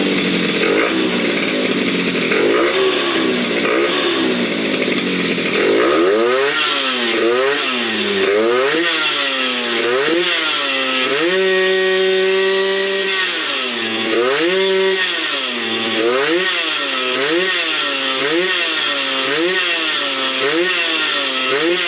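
An MBK51 50cc track prototype moped engine started and revved, a loud buzzing two-stroke note that climbs and falls in repeated throttle blips, close up and alone with no talking.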